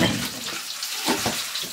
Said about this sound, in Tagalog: Naghuhugas ako ng pinggan.